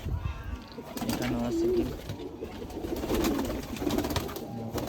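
Pigeons coo softly in a coop where they nest on eggs, low throaty calls repeating under a person's nearby speech amid steady background rustle.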